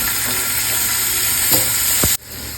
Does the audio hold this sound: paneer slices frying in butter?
yes